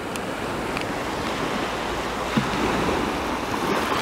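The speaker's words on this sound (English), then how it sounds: "the water comes in and then I wait for it to recede" Ocean surf on a shoreline washes in and draws back as the tide moves, a continuous rushing wash with light wind noise.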